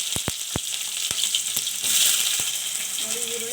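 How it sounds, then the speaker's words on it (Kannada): Sliced onions fry in hot oil in a pan for onion rice, a continuous bright sizzle with a few sharp crackles and a louder burst of hissing partway through. "ಈರುಳ್ಳಿ ಹಾಕೋತಾ ಇದ್ದೀನಿ ನಾನು"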